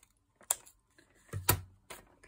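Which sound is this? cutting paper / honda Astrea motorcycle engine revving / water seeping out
cutting paper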